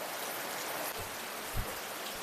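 Steady broadband hiss of rain falling, constant and fairly loud, with a couple of soft low thumps; no voices.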